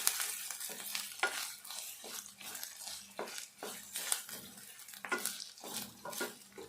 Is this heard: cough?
no